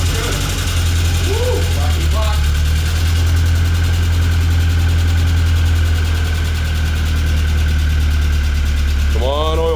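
A Tennant M20 floor sweeper's Vortec 1600 engine runs steadily just after its first start following a head gasket job, a loud, close, constant low drone with faint chirping squeaks near the start and end.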